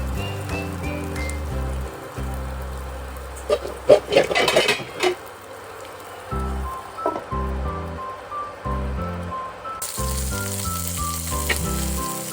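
Teriyaki pork balls sizzle and fry in a covered pan, a steady close crackle with brief louder bursts of spattering partway through.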